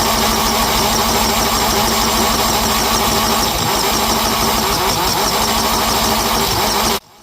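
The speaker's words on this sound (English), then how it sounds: "As I continue to attempt to crank this thing, I'm starting to see less and less fuel, but at the same time, the starter is actually beginning to fail" An engine cranks over on a failing starter, a loud continuous churning, rapid rhythmic turning for about seven seconds before cutting off abruptly, no voices.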